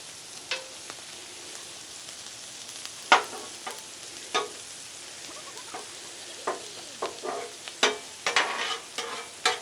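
Pre-boiled potatoes sizzling in butter on a flat-top griddle, a steady quiet hiss broken by sharp metallic scrapes and clanks of a spatula turning them.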